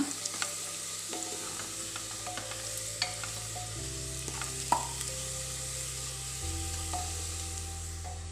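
Onions frying in a pan until brown for prawn coconut milk biryani, a steady close sizzle with intermittent stirring scrapes and a low continuous hum underneath.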